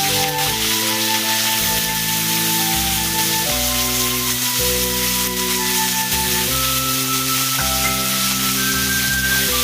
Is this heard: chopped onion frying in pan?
yes